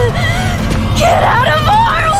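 A character in the horror video game Silent Hill f screams amid a loud game soundscape: a strained, wavering cry over a dense low rumbling backdrop, with vocal-like tones rising and falling.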